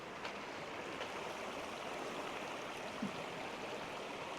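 A forest stream flows steadily, a constant soft rush of water with no voices over it.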